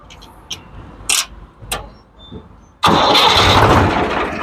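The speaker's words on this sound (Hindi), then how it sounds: "तो मैं ट्रैक्टर आपको स्टार्ट करके दिखाता हूँ" After a few faint clicks and clunks, a Swaraj 735 XM tractor engine with newly fitted liners cranks and suddenly catches, bursting into a loud, rough running roar close by.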